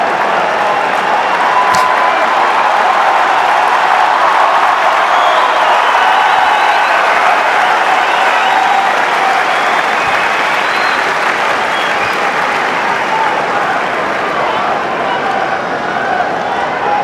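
Wimbledon tennis crowd roars with sustained applause and cheering for Novak Djokovic as he serves for the championship against Roger Federer; a dense, steady wall of clapping fills the whole stretch with no break.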